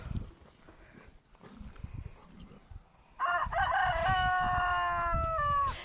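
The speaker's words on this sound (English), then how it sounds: "ours crow nonstop all day too" Roosters crow on a family farm: a few soft calls and scattered clucks over quiet ground noise, then a loud, close, drawn-out crow with clear rising and falling notes that continues to the end.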